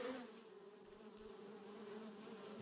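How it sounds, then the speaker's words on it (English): Bees swarming in 7 Days To Die, a steady, fairly faint insect buzz that holds continuously throughout with no talking over it. "I think the bees are attacking the base"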